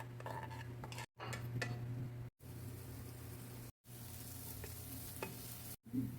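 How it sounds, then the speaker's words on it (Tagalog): Onions and garlic sizzle in olive oil while a spatula stirs them around the pan, giving a constant close frying hiss with scraping and clinking strokes. It cuts off in brief silent gaps. "Haluin natin."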